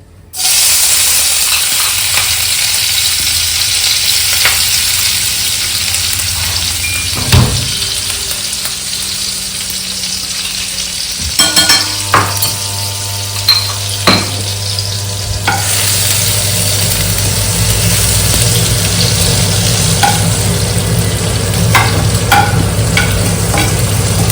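Chili thecha hitting a hot pan, a loud steady sizzle of frying with stirring scrapes and small clatters, continuous throughout with no talk.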